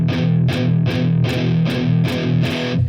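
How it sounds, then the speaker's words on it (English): Distorted electric guitar, palm-muted by the picking hand, strums a chord down with a pick in six loud, even, chugging strokes. Each stroke is tight and punchy, and the beat stays steady throughout. "So I mute by covering up the strings with the side of my picking hand."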